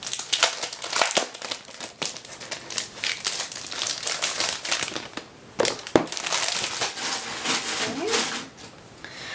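Plastic wrap crinkles and tears as a Peter Pauper Press coloring journal is unwrapped close up, with bursts of crackling and rustling that stop and start over several seconds.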